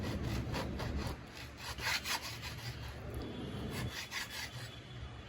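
Knife slicing fish into thin strips on a chopping board for fish bajji, giving a rough, repeated sawing scrape in uneven strokes, close and fairly loud with no talk.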